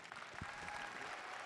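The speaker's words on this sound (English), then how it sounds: "please give him a really warm round of applause" An audience applauds at a robotics championship event in Alaska, a steady wash of many hands clapping at moderate, fairly distant level, holding evenly through the short stretch.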